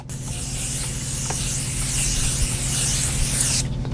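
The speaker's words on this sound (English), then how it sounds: "This is the Jumbo Setting Mist." A steady, loud hiss of makeup setting spray misting continuously for several seconds, cutting off abruptly near the end.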